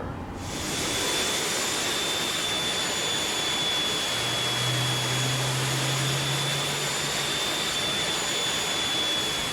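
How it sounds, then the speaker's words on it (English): Engines three and four of a four-engine jet airliner spooling up on the ground at Melbourne, a loud, steady roar with a high, thin whine held over it and a low hum joining midway. "we are clear to start engine 3 and 4. Starting 3 and starting 4."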